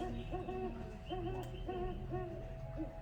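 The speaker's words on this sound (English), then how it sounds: "And you can listen to the Great Horned Owl as well." Great Horned Owl hooting, a series of soft low hoots repeating in an uneven rhythm at a moderate distance, with other bird calls and steady background noise behind.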